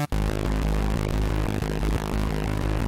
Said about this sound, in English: without the low pass, it would sound like this